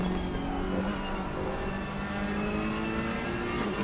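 Onboard engine of a Ferrari race car at the Nurburgring in Assetto Corsa Competizione, a loud, steady, sustained drone with no speech over it.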